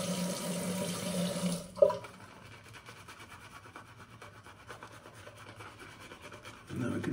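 Wet shaving brush swirling Wholly Kaw La Superieure Dulci Tobacco shaving cream into a lather on the face, giving a close, steady soft rasping rub with a brief louder knock near the start and some water sounds, with no talking.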